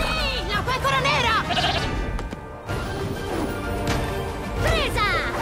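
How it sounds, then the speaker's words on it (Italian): Sheep bleat in a scene from the animated film How to Train Your Dragon 2, wavering cries heard over loud music, action noise and Italian-dubbed voices, with a short crash midway. "La pecora nera!"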